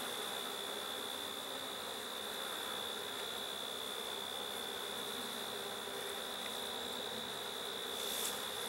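Honeybees in an open hive drone in a dense, continuous buzz with a steady high whine over it, a close, even swarm hum.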